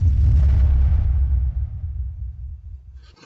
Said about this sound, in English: Another explosion sound. I really loved explosions.